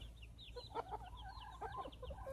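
Backyard hens cluck and chatter in quick, scattered bursts of short calls, close by and fairly soft, over a low steady background hum.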